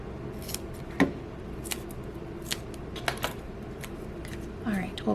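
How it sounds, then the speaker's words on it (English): Scissors snipping strips of paper for a simple handmade Christmas card, a few short crisp cuts spaced apart at close range, with quiet rustling of paper between them. "So let's just cut a few strips of this."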